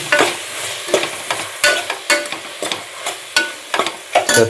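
A spoon stirs mango biryani in a pot with a quick run of loud scraping, clattering strokes several times a second over a light sizzle, and no voices.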